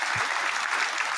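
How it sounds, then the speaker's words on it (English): Steady applause from an audience, dense and continuous throughout, fairly loud with a single low thump near the start. "that deserves a round of applause"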